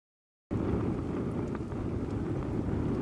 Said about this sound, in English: That wind is picking up a bit